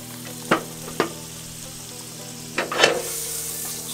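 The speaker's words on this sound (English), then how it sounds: "I'll put down a tablespoon of butter." Butter sizzles and crackles in a hot skillet, heated for scrambled eggs at a forest campsite, a steady close frying hiss broken by a few sharp pops and scrapes.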